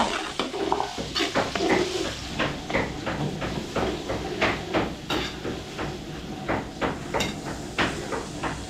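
Garlic sautéing in cooking oil in a pan while preparing chicken caldereta, with a continuous sizzle under repeated clanks and scrapes of a utensil against the cookware.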